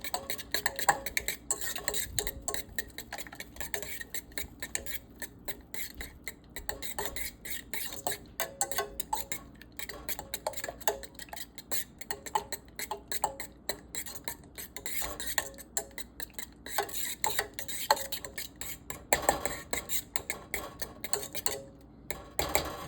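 A spoon clicks and scrapes steadily against a pan as bubbling garlic sauce is stirred, a fast rhythmic ticking of utensil on metal over a faint simmer.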